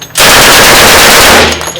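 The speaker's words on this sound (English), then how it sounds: "How'd you like the Tommy gun?" Thompson submachine gun fires one loud, continuous automatic burst lasting over a second, very close and overwhelming, then stops abruptly.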